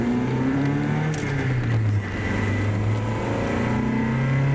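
A Mazda Miata accelerates with a loud, continuous engine note that rises and falls in pitch through a gear change, recorded close from inside or near the car with no talking.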